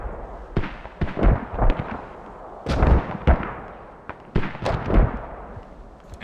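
Mortar fire in the video game Squad: repeated booming blasts and sharp reports arrive in irregular clusters, some loud and close, others duller and more distant, over a quiet background.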